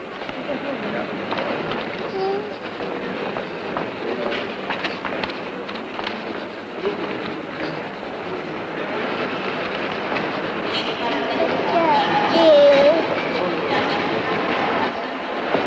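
A train rumbles steadily along the rails in a 1953 film scene, with a continuous low clatter, and people talk over it.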